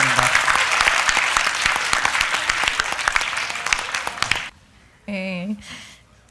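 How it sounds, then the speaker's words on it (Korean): Applause from an audience at a youth social-participation presentation contest, dense clapping for about four seconds that stops abruptly, followed by a short stretch of speech. "박수 한번 쳐주기 바랍니다"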